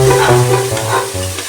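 Small shallot paste hits hot oil in a pan for chicken biryani, giving a loud, steady sizzle with stirring scrapes throughout, no voices.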